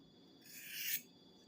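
A knife blade drawn once along a low-grit Spyderco triangle file, a single smooth rasping stroke that swells in loudness over about half a second and then stops abruptly, close and alone.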